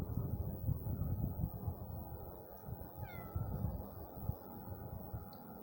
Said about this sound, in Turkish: Yine kedi çıktı.